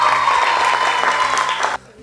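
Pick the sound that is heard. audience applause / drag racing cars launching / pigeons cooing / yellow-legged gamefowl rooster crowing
audience applause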